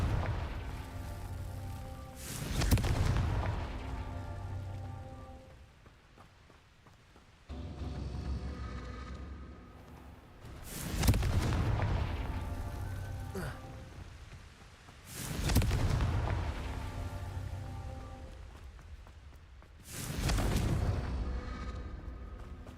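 Four heavy Confringo blasting-spell explosions boom in Hogwarts Legacy, each a loud broadband burst decaying into a rumbling roar, spaced several seconds apart over a low ambient game background.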